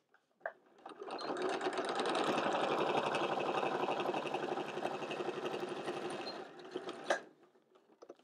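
A sewing machine stitching the seam of a fabric basket, a fast steady mechanical whir for about six seconds, close and loud, starting and stopping with brief clicks.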